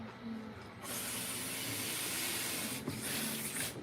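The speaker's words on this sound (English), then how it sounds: "That's for all the sounds that we're about to start using with the sprayer" A hand sprayer blasts water during a Maine Coon cat's bath, a steady close hiss that starts abruptly and runs nearly unbroken for several seconds with a brief dip near the end.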